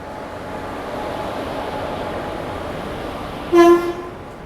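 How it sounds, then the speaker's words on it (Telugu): A train rumbles steadily with a broad, continuous rolling noise, and a brief horn blast sounds near the end; no talking. "ట్రైన్ మాత్రం స్లోగానే వస్తుంది"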